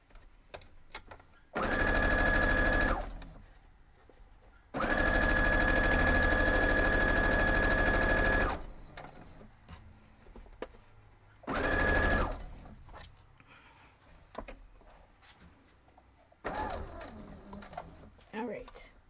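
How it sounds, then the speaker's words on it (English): Sewing machine stitching a seam on a 12-inch Coxey's Camp quilt block, running in three loud, steady bursts of a few seconds each, with quiet handling noise in the pauses between them. "Let's go sew that up."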